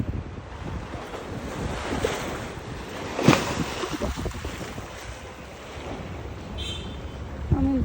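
Arabian Sea surf breaking along the shore beside a Mumbai hotel, a steady close wash of waves with wind buffeting the microphone and one sharper crash midway.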